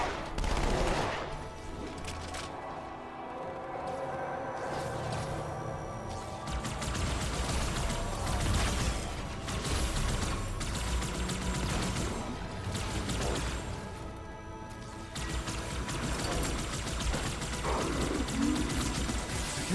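Rapid gunfire bursts from Halo 2 gameplay, with an SMG or plasma rifle in the mix, crackling in dense, overlapping volleys over a busy game soundscape, loud and close with brief lulls between strings of shots.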